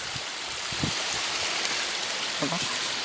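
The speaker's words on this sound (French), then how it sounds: "Là il y a justement un cours d'eau de surface." A small surface stream fed by a spring flows in a steady, hissing wash close by, with faint brief voice sounds breaking in now and then.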